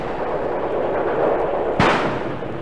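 Hand grenades go off in a wartime radio drama, with a rumbling, sustained battle din and one sharp, heavy blast near the end.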